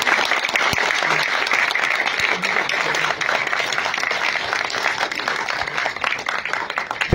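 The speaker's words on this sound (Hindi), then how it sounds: "तालियों में कंजूसी ना करें आप लोग।" Loud, sustained clapping from a large crowd at an outdoor political rally, a thick unbroken roar of hands that holds steady throughout with a faint voice beneath.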